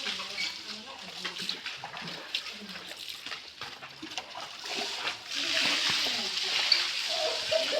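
Hot spring water at Kanniya is scooped up and poured, giving irregular splashes and trickles close by, with people chatting in the background.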